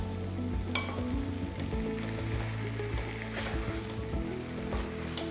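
Masala-coated chicken and potatoes for chicken mappas fry over a high flame in a steady, close sizzle, with light stirring scrapes and occasional clicks mixed into the continuous crackle.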